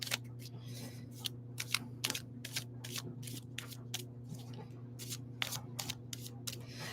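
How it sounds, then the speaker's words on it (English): Golden tarot cards are shuffled and drawn in a series of quick, crisp riffles and slaps over a steady low background hum, fairly close but moderately quiet, with no talking. "So I'm going to pull some cards here for us."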